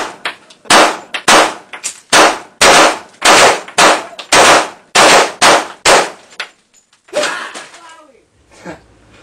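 Guns are fired at a laptop in a loud, rapid string of about a dozen sharp bangs, evenly spaced and close by, followed by a few fainter cracks and rustles.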